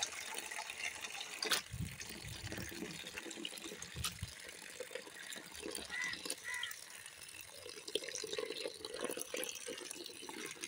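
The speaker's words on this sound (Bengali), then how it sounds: "এখন আমি কলের নিচে জলটা ভরে নিলাম।" Water runs from a kitchen tap into a vessel while greens are being washed, a soft continuous rush with occasional clanks and splashes, fairly quiet and close.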